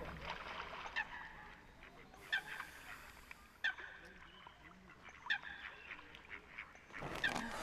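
Ducks honk and quack intermittently at a moderate distance, with a few sharper calls standing out over a soft, steady outdoor background.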